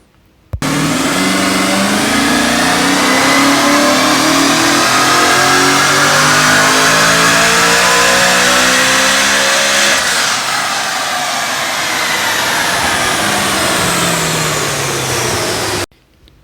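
A tuned car engine fitted with a 650 ESS kit revs hard on a wheel dyno, climbing steadily in a loud, sustained pull. After a brief shift-like dip the pitch keeps rising, then cuts off abruptly.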